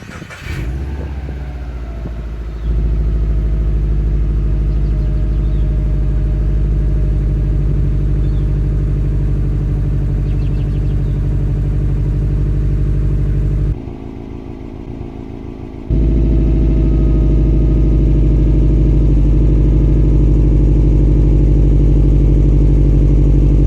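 A 2012 Subaru WRX hatch fitted with a Greddy Supreme SP exhaust idles steadily with a deep, loud rumble after starting up, the level dropping briefly midway before returning stronger, with no talking.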